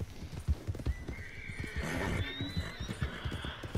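Horse sounds from Red Dead Redemption 2: steady clip-clopping hooves throughout, with a drawn-out neigh rising in the middle, close and fairly loud, no talk over it.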